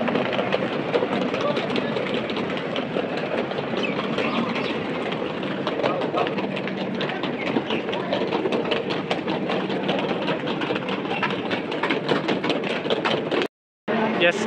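A passenger train for Ahmedabad standing at platform 4 of a Vadodara-area railway station, with steady rumbling, clattering and general platform bustle filling the scene. Voices talk over it throughout.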